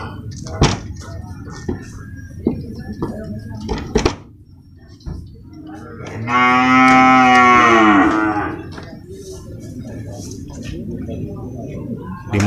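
Cattle at the Purwakarta livestock market low loudly during loading of cows and buffalo, one long, deep, close moo standing out after scattered thumps and knocks, with background clatter around it.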